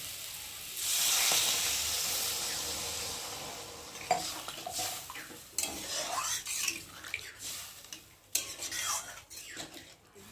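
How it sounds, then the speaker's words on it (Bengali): A burst of hissing sizzle gives way to a utensil scraping and clinking against a pan as spiced potatoes are stirred, in irregular strokes up close. "আর এখন একটু ভালো করে নেড়ে চেড়ে আর আমি এখন পরিমাণ মতো জল দিয়ে দেবো।"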